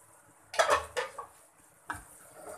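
Maggi noodles with masala being stirred in a pan, a few scraping, clinking utensil strokes against the metal in short bursts, fairly close and with no talking.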